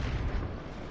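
Artillery shell explosion in War Thunder tank battle gameplay, a deep rumbling boom that fills the whole second with heavy low-end roar, loud and sustained, no talking.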